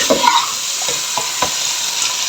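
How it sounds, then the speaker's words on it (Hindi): Food stir-fries in a pan, with steady sizzling throughout and a few soft scrapes of the spoon stirring, close and loud, with no talking. "इसको अच्छे से भूनेंगे"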